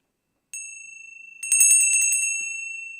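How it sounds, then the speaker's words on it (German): A small hand bell rings brightly at a convivial Viennese song gathering. A single ring is followed by a quick cluster of strikes, close and clear, with long ringing decay and no talk. "Gefolgt natürlich von der Schmattesglocken."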